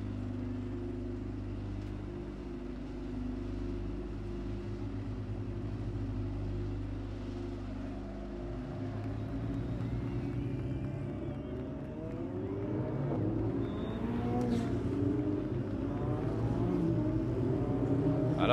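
Deep, low engine rumble from 28 Ferrari Challenge race cars rolling along on a formation lap in Montreal, rising in loudness with more revving and passing engines toward the end.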